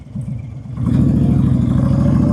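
A Honda Fury motorcycle with a Cobra swept exhaust idles with a loping, uneven burble, then rises into a louder, steady throbbing rumble as the throttle opens, close and alone without speech.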